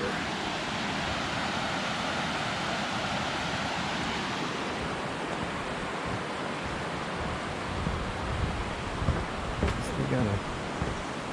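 Steady, dense rushing of water from a waterfall in Zion National Park, Utah, loud and continuous throughout, with a few faint thuds near the end.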